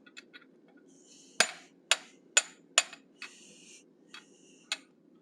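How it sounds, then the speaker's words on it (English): Hammer blows on hot steel at an anvil's radius edge, rounding the snout of a forged cat head for a cougar or lynx sculpture: several sharp ringing strikes in a steady rhythm, with lighter taps before and after, close and alone. "now I'm using the radius edge on my anvil, and I'm going to continue to round up his snout"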